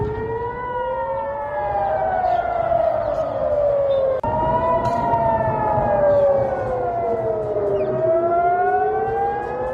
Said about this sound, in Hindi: ये देखिए, रेड सायरन बज रहे हैं, एयर रेड सायरन बज रहे हैं